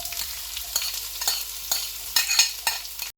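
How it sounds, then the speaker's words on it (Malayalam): Chopped onions tipped into garlic already frying light golden brown in a pan, giving a steady close sizzle with several stirring scrapes and rustles across the whole stretch, no voices. "ഗാർലിക് ഒരു ലൈറ്റ് ഗോൾഡൻ ബ്രൗൺ ആയിട്ട് ഇനി അതിനകത്തോട്ട് 2 കട്ട് അപ്പ് ഓണിയൻസ് ആഡ് ചെയ്യാം"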